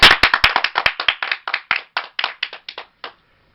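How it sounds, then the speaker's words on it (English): Sparse clapping from a small group, sharp close hand claps in a quick uneven patter that thins out and stops after about three seconds. "Round of applause."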